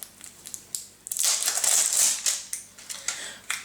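A gel product container being opened up close: small clicks and crinkles, then a sustained crackling, crunching burst of about a second and a half, followed by a few more light clicks.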